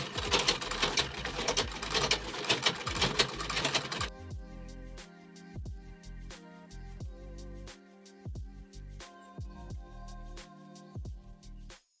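Sewing machine stitching close to a zipper while making a bag lining: a rapid, loud mechanical run for about four seconds, then slower bursts of stitches with pauses between them.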